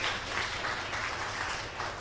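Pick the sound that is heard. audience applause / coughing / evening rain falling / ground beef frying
audience applause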